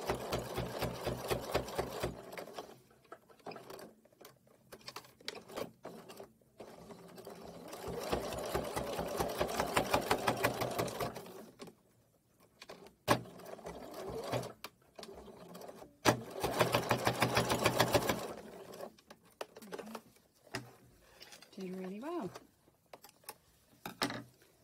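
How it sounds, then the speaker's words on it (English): A sewing machine stitches through many thick layers of fabric while an essential oils organizer basket tote is made, running in loud steady bursts with short pauses between them and a few clicks and handling noises. "With your machine, as it's sewing through a lot of layers of fabric."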